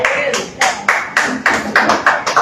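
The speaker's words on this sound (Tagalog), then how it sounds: "Parang dadalawa lang ang pumapalakpak ha." A few people clapping hands at a religious gathering, about nine sparse, slightly uneven claps in a loose rhythm, close and fairly loud, with no speech.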